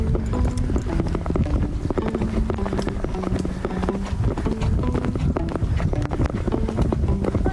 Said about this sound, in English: Just let him canter around so he gets the hang of cantering on the left lead while I'm on him.